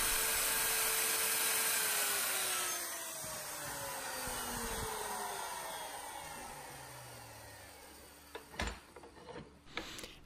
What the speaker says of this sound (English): put a nice chamfer all the way around on the inside of this hole